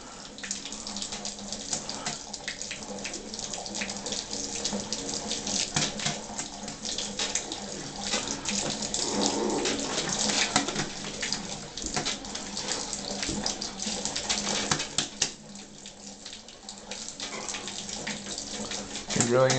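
A tap runs steadily into a bathtub where a macaw is being showered, giving a continuous splashing rush of water that goes on throughout.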